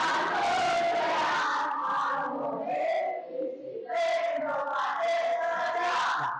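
A classroom group of students shouts a class cheer in unison, loud rhythmic chanted phrases with a brief dip midway before the voices surge together again.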